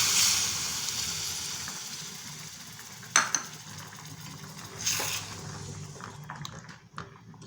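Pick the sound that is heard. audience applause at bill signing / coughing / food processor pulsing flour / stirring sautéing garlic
stirring sautéing garlic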